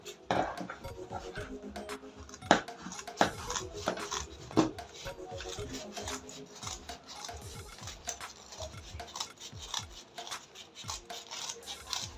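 Scissors snipping through Ankara fabric for a sun hat, a close run of quick, crisp cuts and soft rustles continuing steadily throughout, with no talking.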